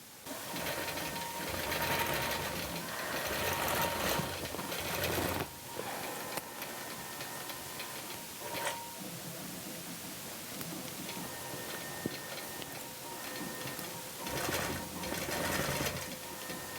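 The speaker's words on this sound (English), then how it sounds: "So let's quilt that much and see how we're doing." A sewing machine quilts a Halloween quilt with ghost, bat and tree motifs, its needle running in a fast continuous whir close by, with brief slowdowns and pauses between runs, and no one talking.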